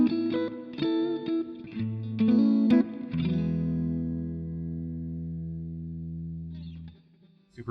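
A John Mayer Silver Sky electric guitar played through a Super Reverb amp: a few plucked notes and chords, then a long sustained chord ringing out clean with reverb before fading, with no voices.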